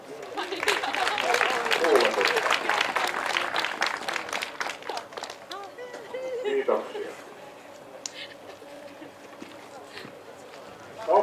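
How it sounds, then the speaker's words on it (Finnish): A crowd applauds at a motorsport prize ceremony for a Finnish jokkis rally in Heinola, dense clapping that swells then thins out, with voices talking over it. "Ja saatiin hyvät aplodit."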